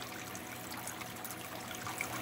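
Water trickles steadily from an aquarium waterfall tank in a fish room, a quiet, continuous, even babble with no talking over it.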